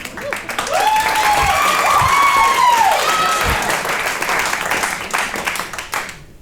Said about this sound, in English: I don't need your pity claps